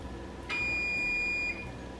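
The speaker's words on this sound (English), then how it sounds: "I'm gonna set a timer." A kitchen timer lets out a single sustained electronic beep lasting about one second while it is set during home baking, loud and close against a quiet room.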